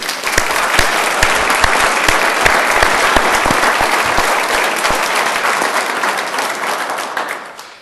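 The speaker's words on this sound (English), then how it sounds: "So let's give everybody here a big round of applause." Loud audience applause fills the room at a fire department and emergency services awards program, a dense steady wash with sharp individual claps standing out, then tapering off toward the end.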